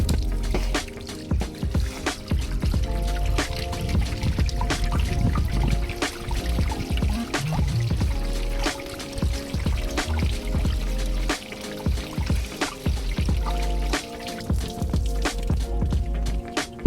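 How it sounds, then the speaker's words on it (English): Water poured over a 2000 Honda CR-V during a leak test splashes and trickles continuously for about seventeen seconds, with irregular drips and spatters up close and no voices. "I'm going to put some water on it and see what it looks like."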